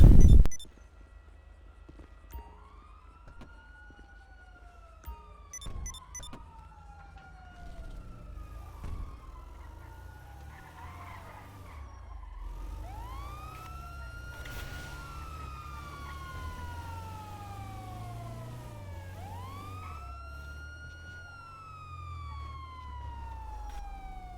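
An ambulance siren wails in repeated rising-and-falling sweeps for about twenty seconds, loud and close with an engine rumbling underneath, after a brief sharp knock at the start.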